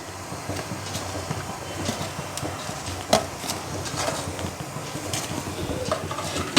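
Sweet potato pantua balls going into hot sugar syrup in a pan, with a steady bubbling simmer and a few soft clinks and plops of the balls dropping in, fairly close with no talk.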